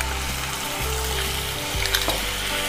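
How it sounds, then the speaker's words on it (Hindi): Garlic, green chili and ginger paste sizzles loudly in hot oil in a pan, a steady close frying hiss with a brief stir or clatter partway through and no voice. "जब ऑयल अच्छे से गर्म हो जाए उसके बाद हम इसमें डाल देंगे, ये है लहसुन, हरी मिर्च और अदरक का पेस्ट"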